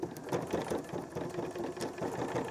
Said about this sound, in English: So all we need to do now is just start sewing